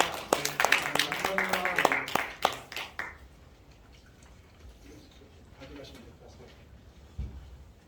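An audience at a church seminar and general assembly claps for the head of Seoul Theological Seminary. Dense, loud applause fills the first three seconds, then fades to a quiet room with a few stray claps.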